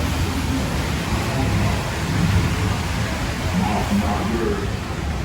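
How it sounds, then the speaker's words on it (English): Steady, dense hiss of rain falling all around at Splash Mountain, Walt Disney World, broadband and unbroken, with a faint low rumble beneath. "It's raining. It is raining out here."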